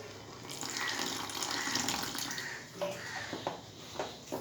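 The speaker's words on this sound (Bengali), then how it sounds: "এবার আমি এর মধ্যে নর্মাল জল দিয়ে মাখবো" Water poured into a bowl of egg and flour mixture before kneading, a steady splashing, running pour close by that eases into softer, intermittent trickles and stirring sounds toward the end.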